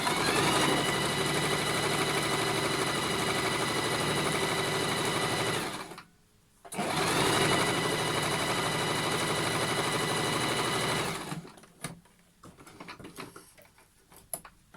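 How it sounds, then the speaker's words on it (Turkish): A sewing machine stitches the side seam of a fabric drawstring pouch in a steady, loud, rapid mechanical whir that runs for several seconds, stops briefly, resumes, then gives way to quieter handling noises. "Şimdi diğer tarafını dikiyorum."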